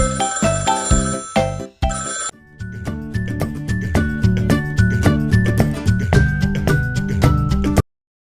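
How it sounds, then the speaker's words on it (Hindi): An electronic telephone ringtone plays a bright, repeating melody of bell-like tones, loud and steady, after a short musical lead-in. "घर में जब भी आता फोन, घंटी मधुर बजाता फोन"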